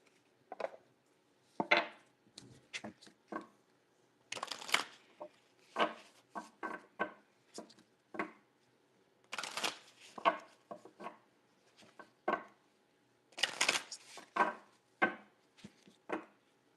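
Tarot and oracle cards, including an Egyptian Gods Oracle deck, are shuffled by hand in a quiet room, giving repeated bursts of papery riffling and slapping with short pauses between them.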